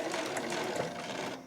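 A sewing machine runs steadily and close, stitching the edge of a satin scrunchie in a continuous fast mechanical whir that ends with a sharp click.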